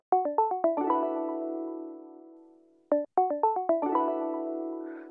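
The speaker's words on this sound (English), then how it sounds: "that iconic microwave beep might not be spellbinding" A digital microwave oven's musical chime: a quick run of stepped electronic notes settling into a sustained ringing tone, heard twice in succession, clear and close with no talking.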